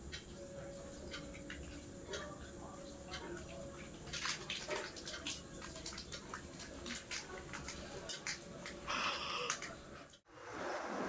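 Someone washing their body with water in the evening, a steady close splashing and trickling with scattered drips and pours over a constant background wash, ending in a brief pause.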